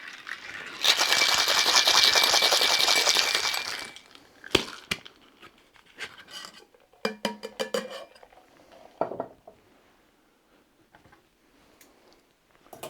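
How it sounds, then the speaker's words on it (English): A cocktail shaker holding ice and peated Scotch is shaken hard for about three seconds, a dense, bright rattle of ice, followed by scattered clinks and taps of glass and metal. "Now go ahead and give that a shake with some ice."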